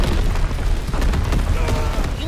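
Mortar rounds exploding in a WW2 shooter video game, a string of heavy booms and bursts landing in quick succession, loud and rumbling, with radio-style voices briefly mixed in.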